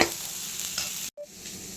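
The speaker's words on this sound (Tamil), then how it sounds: "வெங்காயம் தக்காளி பாருங்கள் வதங்கி வந்துருச்சு எண்ணெய் பிரிஞ்சு வருது பாருங்கள்" Onions and tomatoes with turmeric sautéing in oil until the oil separates: an even, close sizzle, briefly cut off by a short dropout partway through, then resuming more softly, with no talking.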